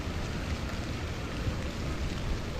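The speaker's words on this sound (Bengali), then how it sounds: "বৃষ্টি হইতেছে।" Steady rain hisses close and constant at a river launch terminal in Bangladesh, a dense broadband wash with no voices or distinct drops standing out.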